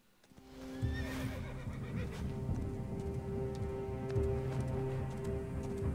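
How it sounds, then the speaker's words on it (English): A horse in the game Assassin's Creed Origins whinnies near the start, then hooves clip-clop steadily as it approaches over a low ambient hum, with no talking. "Call your horse."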